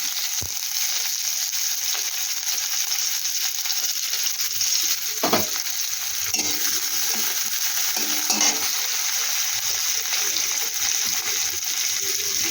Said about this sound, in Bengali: এবার একটু পেঁয়াজ দিয়ে দিচ্ছি।